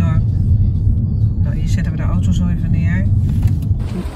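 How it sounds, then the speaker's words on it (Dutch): A car is parked, its engine giving a loud, steady low rumble throughout, heard from inside the vehicle with faint higher mechanical whines over the top. "hier zetten we de auto zo even neer"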